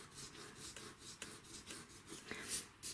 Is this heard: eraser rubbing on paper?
yes